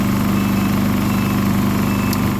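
A small engine runs at a steady idle, giving a loud, continuous low hum with an even, throbbing vibration and no change in pitch.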